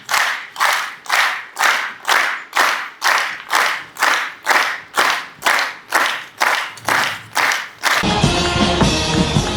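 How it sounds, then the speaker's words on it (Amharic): An audience at a formal stage event claps in rhythmic unison, about fifteen evenly spaced loud claps, before the sound breaks into a brief burst of mixed crowd noise at the end. "እናንተ በሞቅ ባለ ጭብጨባ ወደዚህ ሸኙ።"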